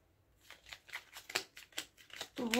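Tarot cards are shuffled by hand, giving a run of about nine quick papery riffles in an uneven rhythm, close to the microphone. The last riffle is the loudest and runs longer than the rest.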